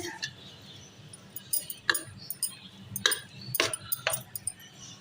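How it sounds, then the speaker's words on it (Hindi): A spoon stirs spices into raw chicken liver in a bowl, producing sparse clinks and taps against the dish at irregular intervals, close and fairly quiet. "ये तमाम मसाले शामिल करने के बाद कलेजी के अंदर हम इसको मिक्स कर लेंगे अच्छे तरीके से"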